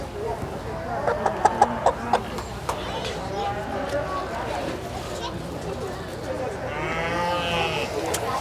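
Chickens and other farm animals at a small animal market and breeding show, with scattered clucks and calls over a steady crowded background murmur, moderately distant.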